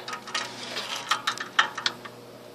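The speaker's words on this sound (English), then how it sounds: "Can you see my ratchet? I'm moving it." Ratchet fitted with a long extension and swivel being worked on a bolt behind an exhaust manifold during a car belt tensioner replacement, producing a short series of quiet, close metallic ticks and clicks.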